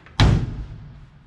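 A 1988 Ferrari GTS door swings shut with a single solid, close thud that rings briefly and decays, with no talk over it.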